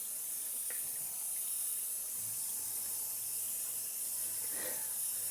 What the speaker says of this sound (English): The sound of running water will be to blame as well.